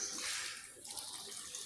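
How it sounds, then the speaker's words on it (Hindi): Boiled water poured from a glass into cooking masoor daal, a steady hissing splash of liquid that is loudest at the start and settles into a softer continuous pour. "गिलास बॉयल पानी डाल रही हूँ"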